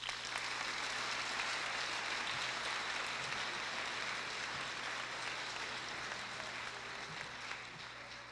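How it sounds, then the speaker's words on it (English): An audience at a 2005 high school senior recognition night applauds the students, a dense, steady wash of clapping from a crowd that continues evenly throughout with no one speaking over it. "So would you please join me in applauding them?"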